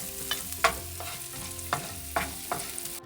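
Sliced garlic goes into a pan of sautéing grated coconut for a Kerala black chickpea curry, with a few distinct stirring scrapes over a steady, soft frying sizzle and no talking.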